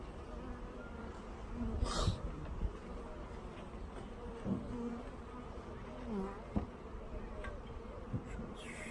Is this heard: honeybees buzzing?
yes